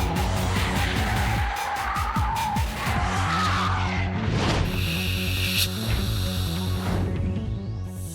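Mercedes SL tyres squeal and skid in Gran Turismo 4, a continuous loud screech layered over a revving engine with shifting pitch, no talk present.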